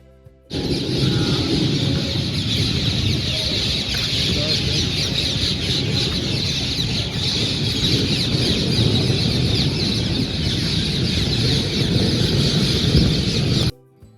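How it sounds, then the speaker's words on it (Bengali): A dense chorus of birds chirps in a big tree outside Purulia railway station early in the morning, a loud, continuous chatter of many overlapping calls that runs steadily throughout with no talking. "আমাদের পুরুলিয়া স্টেশনের বাইরে বিশাল বড় গাছটার কিচিরমিচির পাখিদের আওয়াজ"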